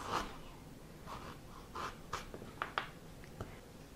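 A knife cuts a couple of thin slices from peeled ginger for a black-eyed pea curry, giving soft, quiet scraping strokes and light taps against the board, spaced irregularly.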